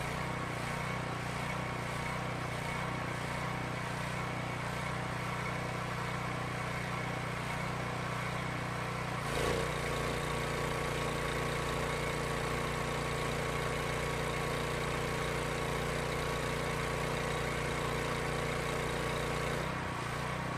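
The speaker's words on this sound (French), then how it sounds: "La pression est maintenant réglée au maximum, ce qui augmente la charge sur le moteur." Kohler carbureted small engine driving a pressure sprayer, a steady droning hum that shifts to a heavier, loaded tone as sprayer pressure is raised to maximum, then eases near the end.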